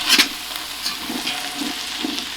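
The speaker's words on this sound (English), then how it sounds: "We're going to get all our onions in there and get them simmering." Onions simmer in melting bacon grease in a pan on a medium-low burner in a tiny house kitchen, giving a soft, steady sizzling hiss with faint bubbling pulses and no talk.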